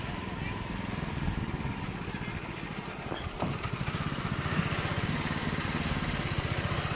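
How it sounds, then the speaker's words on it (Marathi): A 7 HP petrol power weeder engine drives a crop sprayer pump in a cotton field, running steadily with a continuous chugging drone, a voice speaking over it. "फवाऱ्याची मोटरी आहेत मित्रांनो। एकदम भारी चालते, प्रेशर पण मस्त आहे।"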